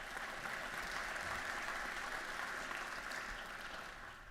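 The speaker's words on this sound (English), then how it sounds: "Can we give him a hand clap of praise this morning?" A legislative session audience claps steadily for several seconds, a dense, even wash of applause at moderate distance with no voices over it.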